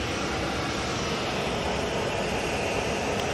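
A Corendon airliner arriving at Manchester Airport gives a steady, broadband roar of jet engines that holds at a constant level throughout, dense and continuous with no voices present.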